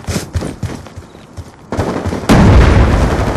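Gunfire and explosions fill a shooter video game battle. Rapid shots and booms come loud and continuous, and the intensity jumps sharply partway through into a heavy, sustained barrage.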